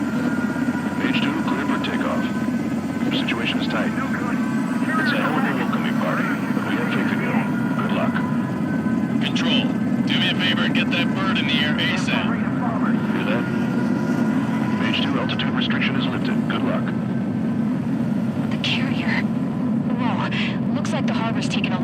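A jet aircraft in the video game Ace Combat 7 roars steadily during takeoff. The engine noise runs the whole time under radio chatter and talking voices.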